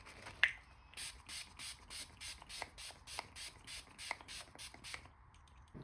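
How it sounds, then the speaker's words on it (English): Makeup setting spray misted onto a face, a rapid run of about fifteen short, even hissing pumps close to the mic, after a small click, with no talking. "we're gonna go another round of setting spray really quickly"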